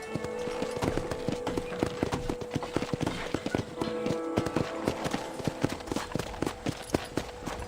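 Horse hooves clip-clop steadily on a ranch in the Red Dead Redemption video game, a close, continuous rhythmic patter of footfalls over a constant background bed, with no talking.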